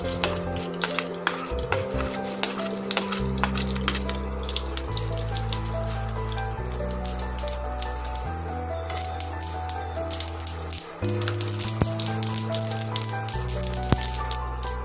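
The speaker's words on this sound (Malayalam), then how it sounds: "കടുക് ഇട്ട് കൊടുക്കാം." Mustard seeds crackle and sizzle in hot oil in a pan while tempering for pathila thoran, a busy, continuous spatter of sharp pops over a hissing bed, close and steady.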